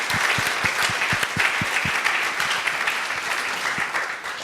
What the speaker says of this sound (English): another round of applause for both Marlene and Carl